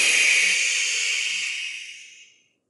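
A storyteller's voice imitates a father bear's snoring in a Latvian bedtime tale with a single long, breathy hissing exhale that fades away over a couple of seconds.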